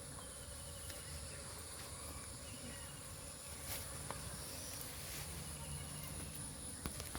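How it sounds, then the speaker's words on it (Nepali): Honeybees around a hive give off a faint, steady buzz alongside a continuous high insect drone, with a few soft rustles and taps scattered through it. "मौरी आदि चाहिँ यतै छन्"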